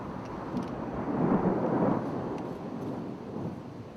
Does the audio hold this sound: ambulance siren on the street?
no